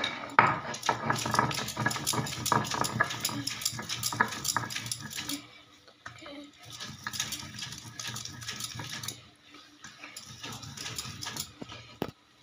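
Bottle gourd greens being ground a second time into a fine paste, heard as rhythmic scraping and clattering strokes that pause briefly midway, then resume and end with a sharp knock.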